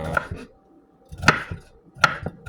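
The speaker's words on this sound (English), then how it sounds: "so you just dice these up." A knife dices broccoli for soup on a cutting board, three close clusters of sharp chopping knocks separated by brief quiet gaps.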